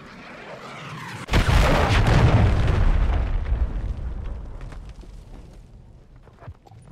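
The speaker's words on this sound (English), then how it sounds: "Hostiles launched a cruise missile." A cruise missile detonates in a tactical shooter game, a sudden loud boom at about the one-second mark followed by a long rumbling roll that slowly fades over several seconds.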